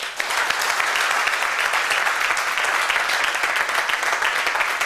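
A crowd claps steadily for several seconds at a network marketing training session, dense, even applause filling the room with no pauses.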